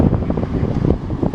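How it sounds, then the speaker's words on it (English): Steady wind buffeting a microphone, a low rumbling roar that gusts and swells throughout with no other clear sounds. "It's pretty windy."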